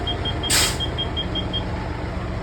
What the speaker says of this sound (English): I can hear my RPMs rising